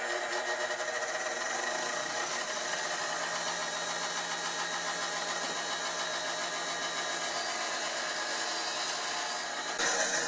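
A bench grinding wheel spins at steady full speed while a wooden skew rebate plane's blade is sharpened against it, giving a continuous loud whirring drone with a faint grinding edge and no talk.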